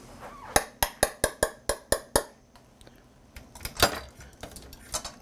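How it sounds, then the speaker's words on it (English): A small whisk clicks rapidly against a bowl in a quick run of about eight sharp, evenly spaced taps, then a quieter pause and a few scattered clinks, close and with no talk. "Now here's where the little whisk comes in handy."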